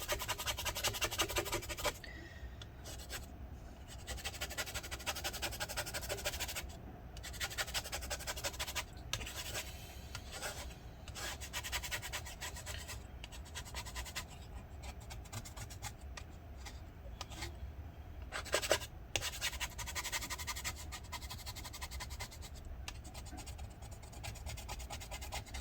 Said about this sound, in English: let's see if we can scrape this stuff up